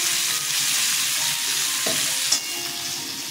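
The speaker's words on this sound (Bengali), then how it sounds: "কুমড়োটা ভাজা হয়ে গেছে, তুলে নেব।" Pumpkin pieces with turmeric and salt frying in oil in a pan, a loud, steady close sizzle with occasional spatula stirs and one brief clink, no voices.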